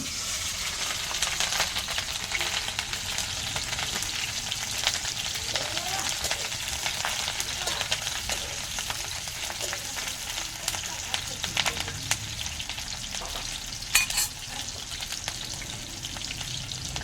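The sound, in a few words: green chillies frying in hot oil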